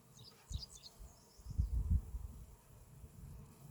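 Honeybees around a growing backyard hive on a warm day, giving a faint, low hum with scattered rises in intensity, distant and soft, with light outdoor ambience and no talking.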